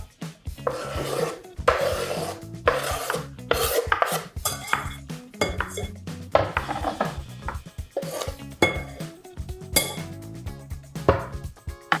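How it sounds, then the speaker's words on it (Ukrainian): Freshly chopped salad vegetables tumble from a board into a bowl in a home kitchen, a close series of scraping, rustling and light knocking pours with brief pauses, no talking. "Тепер висипаємо у салат."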